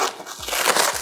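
Packing foam rustles and crinkles as a Creatbot DX 3D printer is unboxed, with a steady close-up scraping texture and a few soft low thumps.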